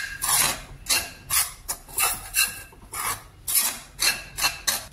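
Amrutham powder is roasted in a pan and stirred with a utensil, making rhythmic scraping strokes about twice a second, steady and close with no voices.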